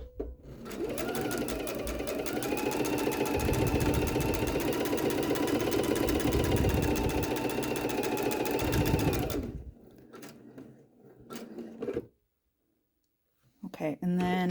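Sewing machine stitching quilt pieces together in a fast, steady whir of the needle, running continuously for about nine seconds before stopping, followed by soft handling noises.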